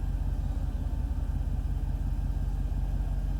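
A high-mileage 2006 Jeep SRT8 idles smoothly, its engine a steady low rumble with an even, regular pulse throughout and no stumbles.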